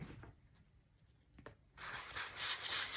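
Sandpaper rubs a painted wooden surface smooth, at first in a few faint strokes, then in a louder, continuous scratchy rasp during the second half, close and with no talk.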